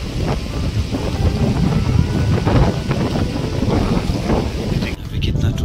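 Steady wind roars and buffets the microphone throughout in cold mountain weather in North Sikkim, a broad rushing noise with gusts, ending in a brief change of texture near the end.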